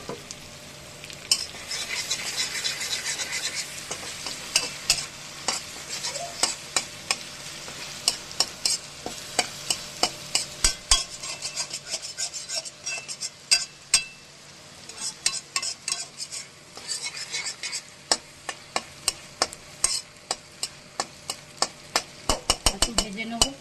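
Taro stolons sizzle steadily in hot oil in a pan while a utensil stirs them, producing a continuous frying hiss broken by repeated sharp scraping and clinking strokes of the spoon against the pan.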